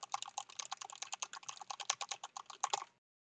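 Rapid, steady keystrokes on a non-mechanical computer keyboard, a close, quiet clatter of soft taps that runs for about three seconds and then stops dead.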